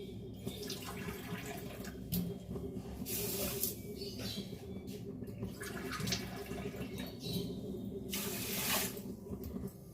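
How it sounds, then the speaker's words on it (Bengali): Water pours steadily from a bowl into sugar in a pot to start a sugar syrup, a continuous soft splashing rush that runs the whole time at moderate loudness. "2 বাটি জল দেব।"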